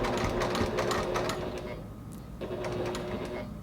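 A sewing machine stitches quilt binding in a steady, rapid mechanical run. It pauses briefly, then stitches again, close and clear.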